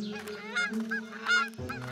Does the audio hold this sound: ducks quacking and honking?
yes